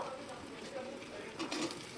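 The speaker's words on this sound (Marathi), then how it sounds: "हे जे सोया चुंक्स आहेत ते थोडं भाजून घ्यायचं" Soya chunks dry-roasting in a kadhai give a faint, continuous sizzle with soft stirring scrapes, quiet and close throughout.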